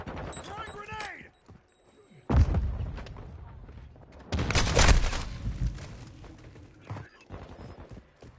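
Grenade blasts in Call of Duty MW2 arrive as two heavy booms, each a sharp low-end burst that trails off into rumble, with scattered gunfire and game sounds in between.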